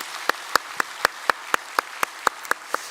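Clapping at a Sunday church worship service welcoming two newly registered families: sharp, evenly spaced claps in a steady rhythm of about four per second, clear and close, with no voices.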